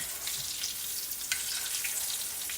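Green tomatoes fry in a pan on a stovetop, giving a steady close sizzle and crackle with occasional sharper pops, no voices over it.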